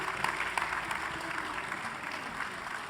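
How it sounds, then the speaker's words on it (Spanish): Sustained applause from a crowd, steady clapping that fills the whole stretch without pause. "México porque le aplauden a uno antes de decir tonterías"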